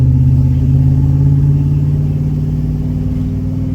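GMC Sierra pickup engine idling or running steadily with its exhaust cutout closed, a loud continuous low rumble with a heavy drone that holds evenly and eases slightly toward the end, no voices.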